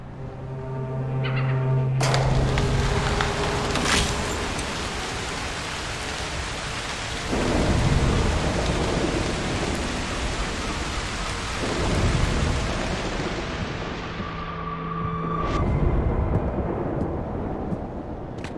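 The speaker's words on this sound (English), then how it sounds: "A storm could help" Thunderstorm in Broken Pieces: steady heavy rain pours throughout while several loud rolls of thunder rumble up and fade, with a few faint tonal chimes over the start and end.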